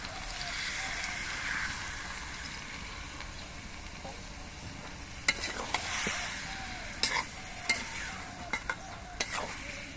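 Mixed vegetables including potato and stems simmer and get stirred in a pan after a little reserved vegetable-boiling water goes in, with a steady soft sizzle and sharper spatula scrapes and clinks in the second half.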